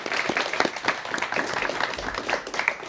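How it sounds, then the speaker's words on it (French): Studio audience applauding on a TV set, a steady dense patter of many hands clapping at moderate loudness for a few seconds with no voices over it. "On peut l'applaudir une dernière fois"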